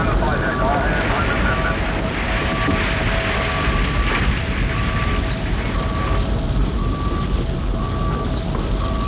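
Jet aircraft launching from an aircraft carrier deck, a loud, steady broadband engine roar filling the whole stretch with faint tonal whines threaded through it, continuous and close.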